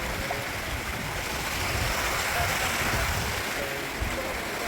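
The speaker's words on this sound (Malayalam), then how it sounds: "ഇങ്ങനെയുള്ള അരുവികൾ കാട്ടരുവികൾ" A forest stream on the Karimala trail to Sabarimala, flowing in a continuous broad rush of water close by, even and unbroken for the whole stretch, with no voices.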